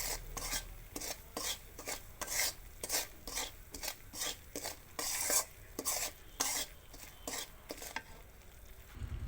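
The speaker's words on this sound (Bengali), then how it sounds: "এখানে এখন লবণ দেব স্বাদ অনুযায়ী, নেড়ে দেব একটু" A pasta mixture with dried chili flakes and salt is stirred in a pan, giving rhythmic scraping strokes about twice a second over a soft sizzle, fairly quiet and close, with no talking.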